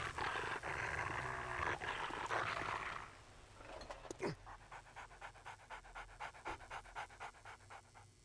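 A dog in the video game 7 Days to Die pants in quick rhythmic breaths, heard close after a rougher noisy stretch at the start.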